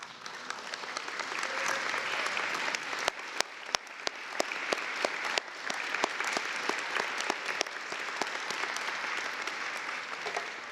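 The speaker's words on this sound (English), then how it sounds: "Would you guys like to stand, Metro staff, for a round of applause?" Steady round of applause from a room of people at a Metro swearing-in ceremony, staff standing to be recognized, with sharp individual claps popping out over dense continuous clapping throughout.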